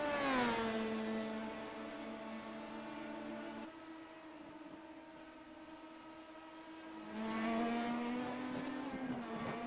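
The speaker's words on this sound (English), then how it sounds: "Y'all hear the cars okay?" Race cars roar through a racing broadcast, engines droning steadily at high pitch, fading into a lower rumble mid-clip before another loud engine surges back in near the end.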